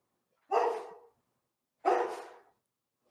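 A dog barks twice, in two separate loud woofs about a second and a half apart, with a third bark just starting at the end, near and clear against silence.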